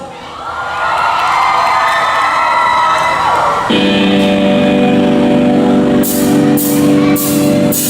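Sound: audience clapping and cheering at comedy show

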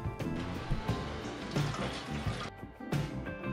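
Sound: pouring vegetable broth into blended soup base

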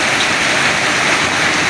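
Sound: heavy rain at a market

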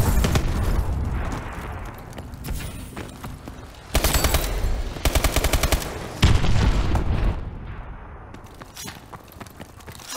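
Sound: friendly missile strikes in a video game

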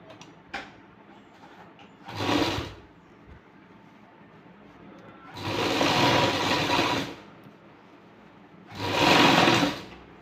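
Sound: sewing machine stitching fabric

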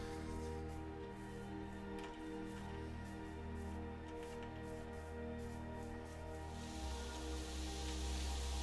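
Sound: rain in the video game Minecraft

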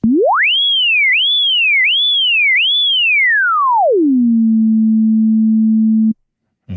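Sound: SynthMaster 2 iPad synth tone with looping multisegment envelope

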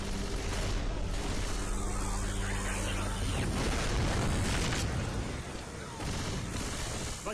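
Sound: grenade explosion in the Left 4 Dead 2 video game

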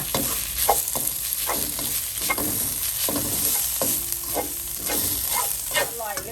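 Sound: frying chili curry paste in oil in a pan

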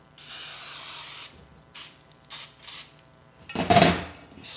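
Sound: cooking spray sputtering from can onto bundt pan

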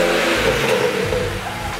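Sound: BMW 335i N54 engine revving, MHD stage 2+ tune

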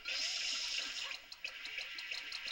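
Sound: water slide in Super Mario Sunshine video game

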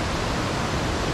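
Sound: Bhatte river flowing

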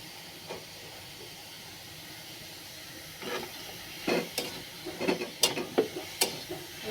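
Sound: stirring onions and mutton with salt in a pan

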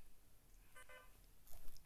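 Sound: phone dialing police in Roblox Brookhaven video game

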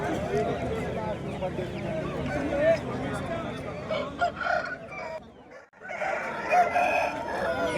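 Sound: rooster crowing at Pebbair market

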